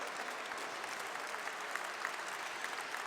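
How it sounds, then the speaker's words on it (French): Faint, distant applause from an award ceremony audience, a steady wash of many hands clapping with no talk over it. "Alors, on les applaudit."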